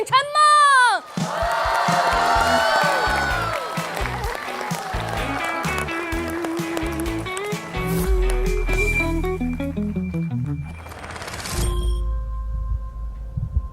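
Studio audience at a Chinese TV variety show breaks into sustained clapping and cheering as table tennis champion Chen Meng is welcomed onstage for a stand-up debut, a loud dense wash of applause mixed with band music.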